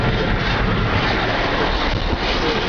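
Airplane passing near Congonhas airport, a loud, steady broadband roar of engine noise filling the scene without any speech.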